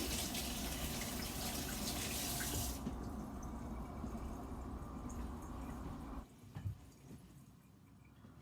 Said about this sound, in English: these tomatoes aren't washed yet, so they need to be washed in the sink